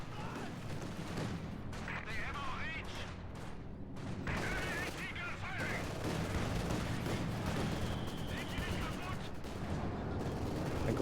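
Machine gun fire and explosions in a World War II strategy video game, with rattling bursts and booms layered over a steady battle din while a commentator talks throughout.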